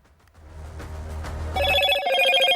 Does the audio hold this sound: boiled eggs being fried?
no